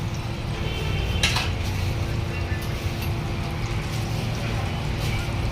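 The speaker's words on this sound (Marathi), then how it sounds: "भल्या मोठ्या कढईमध्ये वड्याचं मेकिंग चालू आहे वडे तळण्याचं काम चालू आहे" Vada frying in a huge kadhai at a crowded thecha vada pav stall in Shil Phata gives a constant oily hiss, with occasional metal clinks of utensils and voices chattering nearby.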